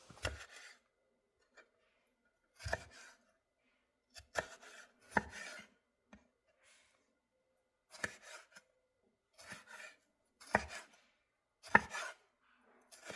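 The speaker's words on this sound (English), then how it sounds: "So I'm just going to continue chopping and prepping my Roma tomatoes." Knife chopping Roma tomatoes on a cutting board, sharp crisp taps in short bursts separated by pauses, close and clear with no talking.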